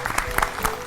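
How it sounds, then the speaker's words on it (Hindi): Brief burst of scattered clapping from a school audience on a televised quiz show, a handful of distinct claps under a quiet voice. "तालियां।"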